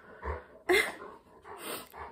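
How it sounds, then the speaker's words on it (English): A Greater Swiss Mountain Dog at home gives soft whimpers and breathy sounds, with a sharper, louder whine in the middle and again near the end, close by and alone. "He is called a Greater Swiss Mountain Dog."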